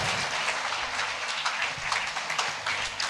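A church congregation claps in praise to Jesus during a Hindi-English worship service, a dense, steady wash of many hands that stays loud throughout with no pause.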